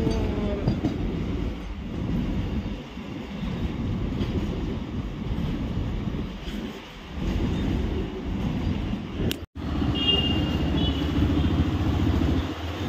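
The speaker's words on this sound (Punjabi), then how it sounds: "ਟ੍ਰੇਨ ਲੰਘ ਗਈ ਉਹ ਟ੍ਰੇਨ ਜਾਂਦੀ ਆ" A train rolls steadily past near a rural off-road track beside the line, a continuous rumble and clatter of rail cars lasting throughout, with a brief sharp break near the end.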